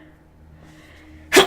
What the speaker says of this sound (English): Oh, I need to sneeze.